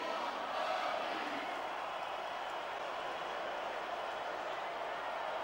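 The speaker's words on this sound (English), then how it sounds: "I can't remember the last time I seen a crowd so pumped up." A steady, roaring arena crowd cheers at a wrestling event in the Smackdown vs Raw 2006 video game, a constant wash of noise with no distinct peaks and no talking over it.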